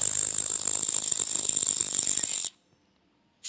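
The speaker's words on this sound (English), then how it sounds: "Grasshopper." Grasshopper chirping in a sound-learning set for kids: a steady, dense, high-pitched buzzing trill runs loud and continuous for about two and a half seconds, then cuts to silence before a brief return at the end.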